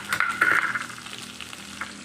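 Bitter gourd with peas sizzles in a pan with a utensil scraping and stirring, a brief close frying crackle with a few sharp clinks.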